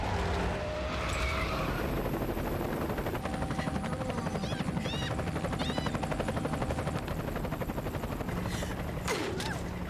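A helicopter flies in the video game Metal Gear Solid 4, its rotor pulsing as a fast, steady loud chop throughout, with mechanical whines and brief chirps over the top.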